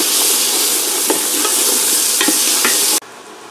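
Carrot, celery and onion caramelize in a soup pot with a loud, dense sizzle and a few stirring clicks; after about three seconds the hiss drops away abruptly to near quiet.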